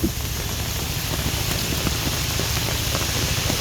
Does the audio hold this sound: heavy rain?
yes